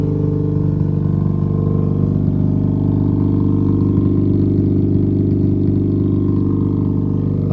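Car engine idling and revving at a Sydney car meet and show, a loud close low rumble that builds and holds with a throaty drone, heard alone without talking.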